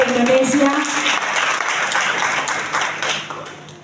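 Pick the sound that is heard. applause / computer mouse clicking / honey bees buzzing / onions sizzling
applause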